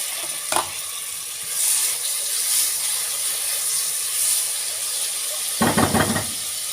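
Tomatoes hit a hot cooking pot during preparation of an Egyptian rice kabsa with chicken wings, giving a steady close sizzling hiss with a brief clatter at the start and a louder burst of frying near the end.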